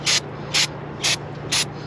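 A spray nozzle fires four short, evenly spaced hissing bursts at a charcoal-blackened part to wash it clean, each blast close and sharp over a low steady hum.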